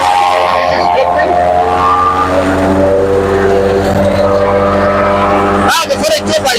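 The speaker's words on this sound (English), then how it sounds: "Now the forage chopper is here, and it is chopping it." Forage chopper at work chopping forage, a loud sustained engine drone with layered harmonic whine that shifts in pitch, with a voice speaking over it.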